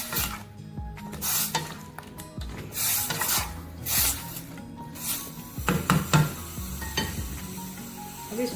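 Spiced meat with whole spices, turmeric and salt being stirred in a pot, giving a steady sizzle with scraping and rubbing of the spoon against the metal and a few louder clanks, close and alone with no talking.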